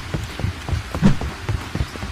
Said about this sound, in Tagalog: Boy Scouts, umuulan na.